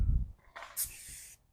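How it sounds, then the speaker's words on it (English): Glass cleaner sprayed onto the window of a 2004 Toyota Corolla during tint installation: a brief hissing spray burst of about a second, close and fairly loud, after a low thump. "Grab your glass cleaner."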